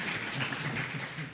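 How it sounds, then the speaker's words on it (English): A crowd at the Sea of Thieves Comic-Con 2016 art panel breaks into dense, continuous applause, a short burst of many hands clapping together. "So round of applause"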